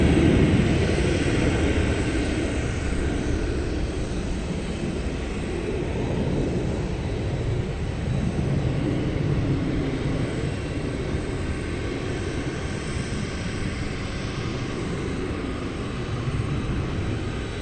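An aging ex-Japan Airlines Kalitta Air cargo jet at DFW Airport, at night, gives a steady, broad engine roar that holds loud and continuous throughout without any talk.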